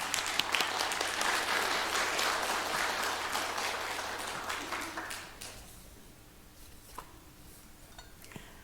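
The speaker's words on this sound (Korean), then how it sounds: "우리 먼저 박수로 환영하겠습니다" Church congregation applauding during a Sunday organ-donation service to welcome a guest speaker, steady full clapping for about five seconds that thins out and dies away into a quiet hall.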